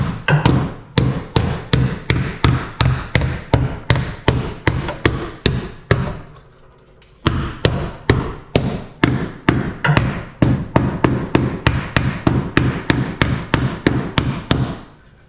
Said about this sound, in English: we're going to hammer tune it a little bit